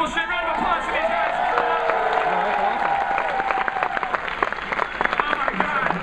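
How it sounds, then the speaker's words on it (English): A live audience applauds a panel, with dense clapping, cheers and whoops rolling through steadily at close range as voices talk over the crowd noise. "Round of applause for these guys."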